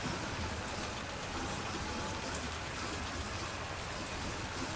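Steady rain falls in Death Stranding 2 as a constant broadband hiss, dense and even, with no breaks throughout.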